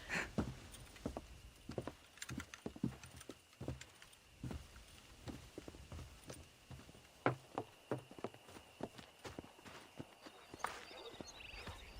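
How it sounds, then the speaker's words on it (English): Horse hooves clip-clop in Red Dead Redemption during horse breaking on a ranch, an irregular run of fairly close hoof strikes with scattered louder thuds and quiet background ambience. "Breaking in horses."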